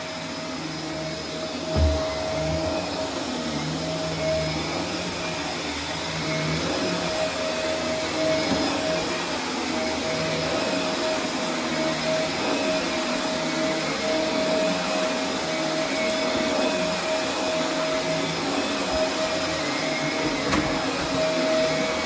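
A Dyson DC24 All Floors upright vacuum cleaner runs steadily with a loud, continuous motor drone and a high whine, holding an even level throughout with no talking.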